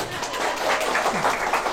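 A crowd claps steadily at a motivational talk, a short burst of continuous, fairly loud applause with a faint voice mixed in.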